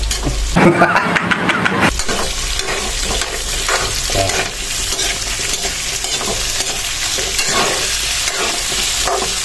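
Corned beef and potato chunks frying in a pan while being stirred, a strong continuous sizzle with repeated scraping and knocking of the spatula, close and loud, with faint voices briefly underneath.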